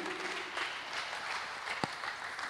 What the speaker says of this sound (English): Let's give God a mighty hand clap for Mr. Bomboka.